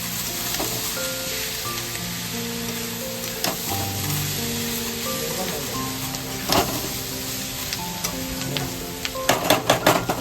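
Green bananas (kachkola) fry in hot oil with a steady close sizzle, broken by occasional stirring scrapes and a few sharp clatters toward the end.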